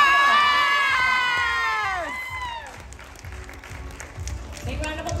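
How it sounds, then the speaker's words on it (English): At a regional dance competition awards ceremony, a crowd of young dancers shrieks and cheers with high excited voices, over steady applause that settles into lighter clapping and chatter. "Big round of applause to your Overture Senior Solo Champions."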